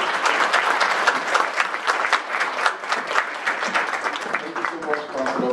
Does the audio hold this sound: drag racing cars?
no